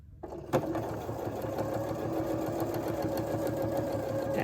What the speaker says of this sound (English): So when you're finished sewing your top stitching,